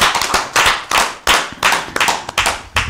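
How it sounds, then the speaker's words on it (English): Applause at a summit: several sharp, uneven bursts of hand clapping, close and loud, with no talk over them. "Let's applaud Brenda for that very good contribution."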